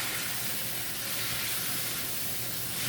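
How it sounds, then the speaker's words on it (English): Pork slices sizzle in a hot pan or wok over a high flame, a steady close hiss of frying that runs without pause, no voices. "Just saute or braise it for until golden brown using high heat flame or high heat."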